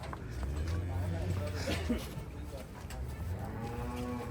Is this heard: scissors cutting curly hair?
no